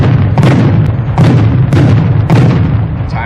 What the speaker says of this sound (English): Those are 5 timed bangs